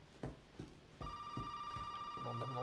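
In the horror game Resident Evil 7, a telephone rings steadily with a sustained electronic bell tone, moderately loud, over soft thumping footsteps and faint ambient noise.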